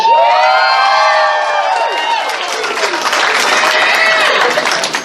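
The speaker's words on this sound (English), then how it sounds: "Everyone, I want you to give a huge round of applause for Addie!" Crowd cheering, whooping and applauding for a dancer at the FurSquared 2020 dance competition, loud and continuous, with high shouts and whoops over dense clapping from start to end.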